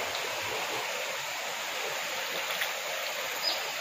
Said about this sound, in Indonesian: Spot arus deras.